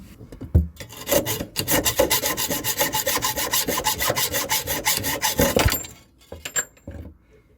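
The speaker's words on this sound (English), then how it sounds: "I'm going to cut underneath the bolt, so underneath the nut, to try and cut that off" Metal cutting under a seized shock absorber nut on a VW T3 van, a steady rasping, grinding stroke repeated rapidly for about six seconds before stopping, with a few scattered clinks afterward.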